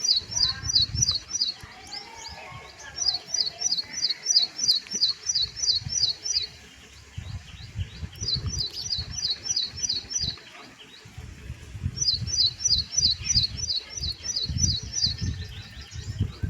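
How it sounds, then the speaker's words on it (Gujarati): A small sparrow chirps in rapid, high bursts of several notes, repeated four times with pauses, over low rumbling background noise. "જોઈ લ્યો મજા આવે ચકલીની"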